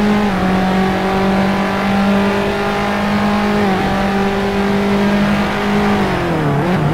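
Race car engines in a 3 Series sim racing event at the Nürburgring hold a loud, steady high-revving drone, briefly dipping as the pitch shifts near the middle and again at the end.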